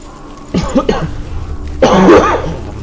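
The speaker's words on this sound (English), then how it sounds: "I know it must be annoying, but you know, it's a cough." Two harsh coughs from a person playing a game, the first a short double burst and the second a longer rough one a second later, close and loud with no speech.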